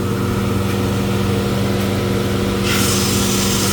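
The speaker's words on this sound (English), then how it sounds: "You just keep putting this in there over and over and over, and it sands it down for you." A power sander smooths the wood of a charcuterie board, running as a steady, loud continuous drone throughout with a brighter, hissier edge toward the end, no voices.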